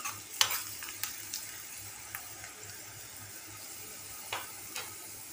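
Dried red chillies frying in hot oil for an egg fry with ponnaganti greens, a soft continuous sizzle with a few light stirring clinks, quiet and close with no talk.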